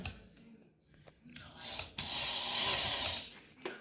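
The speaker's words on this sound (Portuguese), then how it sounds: "E agora eu vou fazer as furações correspondente aqui onde as bolinhas podem cair" A Forstner drill bit boring holes in a homemade wooden maze toy, with short rubbing contacts followed by a sustained grinding cut at close range.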